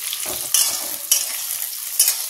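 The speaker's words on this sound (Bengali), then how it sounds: "ডিম কটা ভেজে নিচ্ছি" Eggs frying in oil for a spicy egg curry, giving a bright, steady sizzle with a few sharp spatters and pan scrapes, close and fairly loud.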